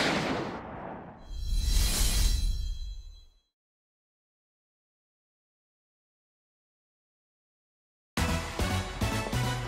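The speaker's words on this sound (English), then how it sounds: "The sound of gunfire echoes through a collapsed city." Gunfire and explosive bursts in a Bayonetta 3 trailer set in a collapsed city, a loud swelling volley for about three seconds, then silence before dense scored action resumes.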